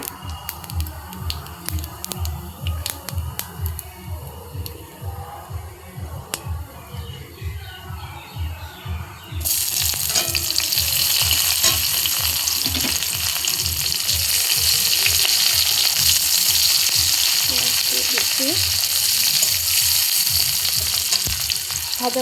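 Cumin seeds hit a little hot oil in a home kitchen pan. A quieter stretch of clinks and handling gives way to a loud, steady, close sizzle that holds to the end.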